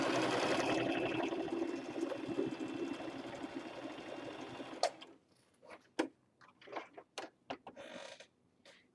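A sewing machine runs in a fast, steady whir while stitching down the folded edges of a fabric face mask, then stops, leaving scattered clicks and handling taps.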